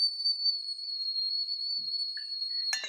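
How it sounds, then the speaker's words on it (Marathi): A milk-heating cooker lets out a steady, shrill whistle that holds one unbroken high pitch for about three seconds, then ends in a short burst of rushing steam noise. "ह्याचा शिट्टीचाच आवाज येतोय"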